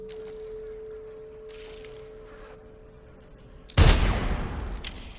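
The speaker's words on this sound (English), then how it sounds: "let's see if we can use an explosive bullet here" A loud explosive-bullet gunshot in Dishonored cracks out suddenly after a few seconds of quiet game ambience with a low steady hum, then trails off in a noisy roar that slowly fades.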